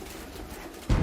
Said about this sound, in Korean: 방 안에 설치된 횃대 위에 비둘기가 빼곡합니다